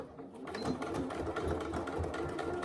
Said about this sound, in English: I'm sewing the lining part at a 1/2 inch seam allowance